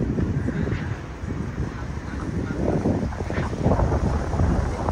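Wind gusts outdoors in Lusail, Qatar, a loud rumbling buffet across the microphone that swells toward the end, with faint distant activity underneath.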